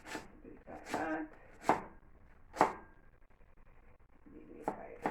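Knife strikes on food against a cutting board land one by one in uneven pairs and singles, crisp and close, with quiet gaps between the chops.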